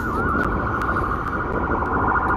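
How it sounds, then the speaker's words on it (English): A wailing ambulance siren sweeps continuously at loud volume, with faint sharp clicks recurring through it. "It's an ambulance."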